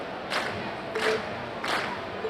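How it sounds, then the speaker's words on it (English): Three short swells of crowd cheering rise and fall in quick succession over a low, steady murmur, after a concert performance in the video game Trails of Cold Steel. "we've heard your cheers loud and clear"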